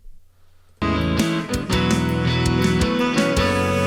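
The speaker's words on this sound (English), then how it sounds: "Let's talk about this saxophone sound." A DSK Saxophone virtual instrument plays a loud melodic phrase of sustained notes that starts abruptly after a quiet moment, set against a bright full backing.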